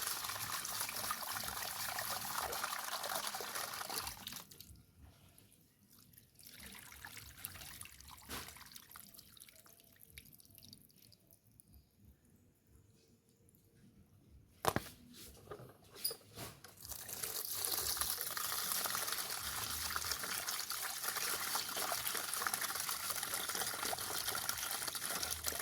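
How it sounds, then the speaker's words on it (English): Tap water running and splashing while rice is washed two or three times, a steady trickle that drops back for a stretch in the middle before pouring strongly again, with no talk. "You have to make sure your rice wash 2 or 3 times"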